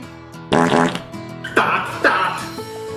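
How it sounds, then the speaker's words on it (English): Several close, loud, sputtering farts come in short bursts, three or four in a row with brief gaps, over a quiet tonal background hum. "I farted."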